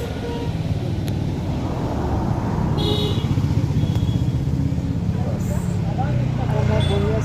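A motorcycle runs steadily along a road, its continuous low engine drone loud and close with wind rush, while a person talks over it.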